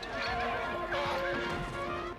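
A horse lets out a loud, close neigh with a wavering whinny during a film stunt scene for an action sequence, with faint hoof clatter beneath.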